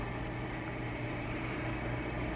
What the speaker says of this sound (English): There's the food truck across the street and up just a drop that has this generator running